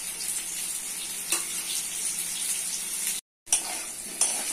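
Potato pieces frying in a pan with turmeric and salt, a steady bright sizzle heard close and alone, broken by a brief total silence near the end before the sizzle returns.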